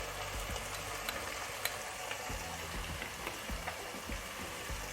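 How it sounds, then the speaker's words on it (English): Masala with turmeric powder sautéing in a pan for prawn biryani: a quiet, steady sizzle broken by frequent small scrapes and taps of a spoon stirring, with no voices. "I'll saute it a little. Let the raw smell get out of it."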